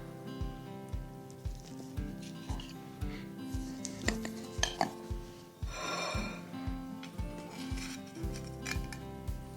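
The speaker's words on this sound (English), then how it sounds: "Let's go ahead and slice it up." A knife slices through a baked chicken enchilada quiche in its dish, making repeated soft scraping and cutting strokes with a few sharper taps against the pan, under quiet background music.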